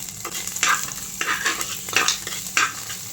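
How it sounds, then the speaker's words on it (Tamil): Chopped coconut pieces and cashews sizzle in ghee while a spoon stirs them, with scraping strokes coming in a few distinct bursts over a steady frying hiss. "சிதில் சிதிலாக கட் பண்ணி வச்சுருக்க தேங்காய் முந்திரி ரெண்டுத்தையும் போட்டு நல்லா ரோஸ்ட் பண்ணி எடுத்துக்கிறேன்"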